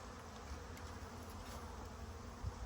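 Honey bees from a newly delivered package humming steadily at close range, a continuous soft drone with no talking.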